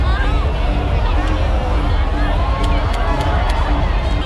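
A dense, loud crowd at the Songkran water fight in Bangkok creates steady babble and commotion, with people talking and shouting throughout, close and enveloping.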